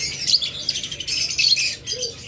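A super tame pet bird, one of a pair for sale, calls up close with rapid high chirps and squawks over a couple of seconds, with no talking.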